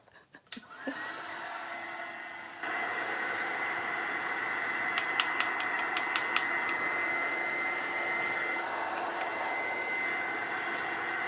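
A hair dryer switches on and runs steadily, drying impasto paint: a constant close whirring blow that steps up to a higher, louder setting after a couple of seconds and holds there.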